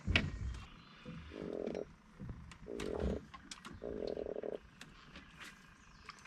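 A freshwater drum fish caught from a boat on a creek croaks in three low buzzing bursts, each about a second long with short gaps between, close and fairly faint amid handling clatter and rustling.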